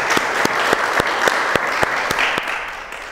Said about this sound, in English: Let's give a round of applause for our guests.